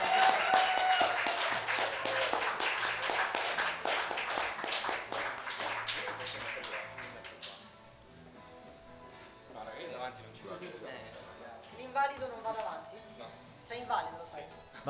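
An audience applauds a rock blues cover band, with dense clapping that starts strong and gradually thins out, followed by scattered claps and voices as a presenter talks.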